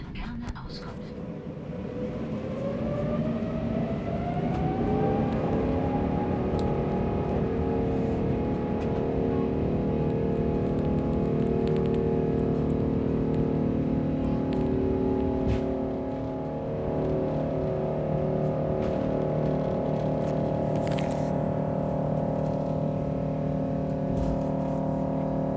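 Lufthansa A350 taking off, heard from inside the cabin: a steady, loud engine roar builds over the first few seconds, rising in pitch with a spool-up whine, then holds as a continuous broad drone throughout.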